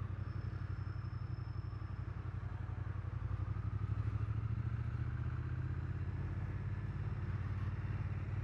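A 2022 Triumph Speed Twin 900 motorcycle rides along Athens roads, its parallel-twin engine giving a steady, close, throbbing low rumble with constant wind and road noise and no change in pace.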